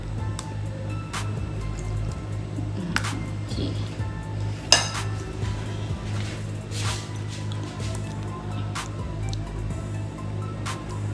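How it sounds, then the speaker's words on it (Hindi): Cream is stirred into custard in a bowl for a trifle, with soft scraping and a few sharp utensil clinks against the bowl over a steady low background hum. "हम कस्टर्ड को बाउल में ले लेंगे और इसी में हम लोग डालेंगे क्रीम और फिर अच्छी तरह से इन सब चीज़ों को करेंगे मिक्स"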